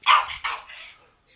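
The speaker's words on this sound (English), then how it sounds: "What is he barking at?" A dog barks twice in quick succession, close and loud, followed by a fainter trailing yip.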